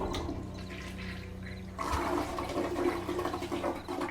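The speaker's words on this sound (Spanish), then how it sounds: "empezó a correr el agua en el inodoro de uno de los 3 módulos" A toilet flushes, a low roar of rushing water that swells abruptly partway through and keeps churning, with no voices.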